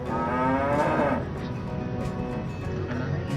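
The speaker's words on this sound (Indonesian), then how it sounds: "Nih, itu ada sapi." A cow moos on a university campus farm, a single drawn-out low call lasting about a second, fairly near and clear over steady outdoor background noise.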